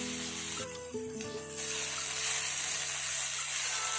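Sweet pumpkin pieces fry with sugar in a home kitchen pan, giving a steady soft sizzle and hiss throughout, with a few brief clinks of a utensil early on.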